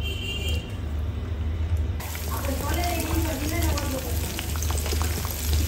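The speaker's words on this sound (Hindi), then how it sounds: "अब ये चिकन के पीसेस डाल के फ्राई कर लें।" Chicken pieces dropped into oil heated over a high flame hiss and sizzle loudly and steadily, the frying growing busier after the first couple of seconds, for a chicken steam roast.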